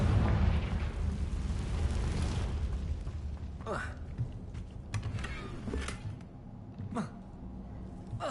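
A Confringo fire spell in Hogwarts Legacy erupts as a deep rumbling blast that slowly fades, followed by scattered sharp clicks and game effects, with a voice speaking briefly.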